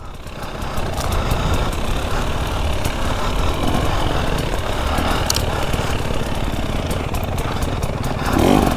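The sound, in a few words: KTM EXC 300 dirt bike riding down a steep mountain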